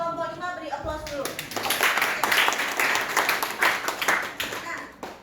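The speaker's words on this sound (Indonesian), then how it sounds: "Terima kasih kepada kelompok 5, beri aplaus dulu" A classroom of students applauds a presenting group during a micro-teaching session. A voice speaks briefly, then loud, dense clapping swells and continues to the end.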